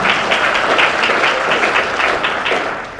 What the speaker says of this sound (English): Well, you can cheer for Lord Sumption.